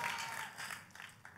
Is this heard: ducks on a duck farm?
no